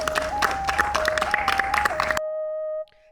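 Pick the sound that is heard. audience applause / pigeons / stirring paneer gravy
audience applause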